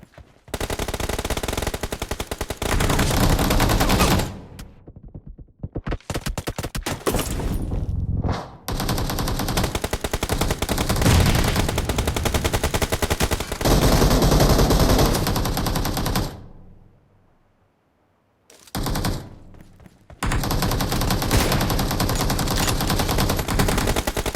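Automatic gunfire rattles in a shooter video game: long, dense, loud bursts of rapid shots broken by two short silent gaps, with no voices.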